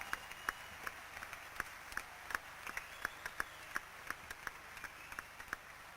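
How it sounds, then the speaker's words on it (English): Sparse, faint clapping from a small scattered group at a Special Olympics opening ceremony, individual claps ringing out irregularly rather than building into full applause. "a round of applause for this great honour"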